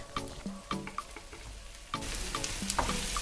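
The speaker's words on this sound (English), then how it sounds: "Now we're going to add in the quail's egg. Just give it a stir, cook for about a minute or so" Quail eggs stirred in a frying pan with dry chilli peppers: light spoon clicks and scrapes over a soft sizzle that swells into a steady, louder frying hiss midway.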